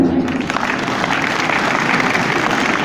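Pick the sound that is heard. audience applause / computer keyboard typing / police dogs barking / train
audience applause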